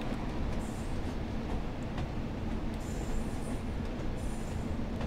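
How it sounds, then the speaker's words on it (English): A Class 47 intercity train passing in a railway simulator, a dense steady rumble of wheels and carriages rolling by close, with faint high squeals above, no voices. "Oh, there is a train though."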